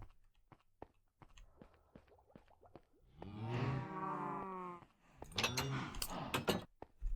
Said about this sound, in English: Can already hear the cows.